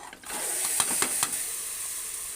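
Goat tripe (boti) frying in a spoonful of hot oil inside a pressure cooker, a steady hiss with several quick metallic clicks and scrapes from a utensil.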